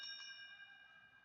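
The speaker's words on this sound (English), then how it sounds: "There's your bell lap for your leaders." A bell rings to mark the bell lap in a speed skating race, one bright metallic strike ringing out and slowly fading, heard alone and fairly faint.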